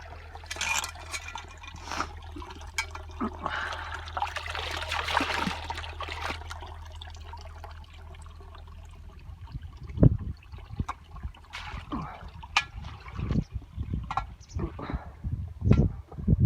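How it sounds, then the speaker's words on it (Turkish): Ice-cold water trickles and splashes steadily from a village fountain, heard up close and fairly soft, with occasional sharper splashes and small knocks near the end. "Buz gibi su akar burada."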